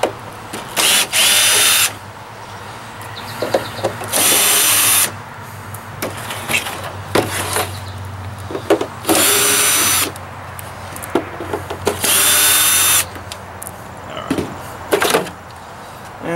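A power drill removes screws from a computer monitor case, whirring in several loud bursts of a second or two each, separated by quieter handling clicks and rattles.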